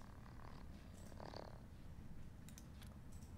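A cat purrs in the Wasteland 3 video game: a faint, steady low buzzing rumble that runs throughout under soft noise, with no talk.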